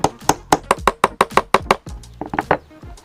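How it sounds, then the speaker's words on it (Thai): A hammer drives a nail through a plastic bottle cap in a rapid run of about a dozen sharp, close knocks, followed after a short pause by a few quicker, lighter taps. "เสร็จแล้วเราก็จะใช้ตะปูนะคะ เจาะจากด้านในค่ะ นี่นะคะ เจาะให้อยู่ตรงกลางด้วยนะคะ แล้วเราก็ใช้ค้อนค่ะตอกลงไปเลย"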